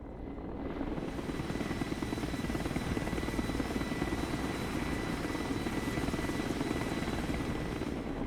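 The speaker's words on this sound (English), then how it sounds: "Ooh, we get a pair of attack helicopters." A pair of attack helicopters in the Broken Arrow strategy game thrum with a steady, loud rotor buzz that fades in during the first second and then holds constant to the end, with no voices.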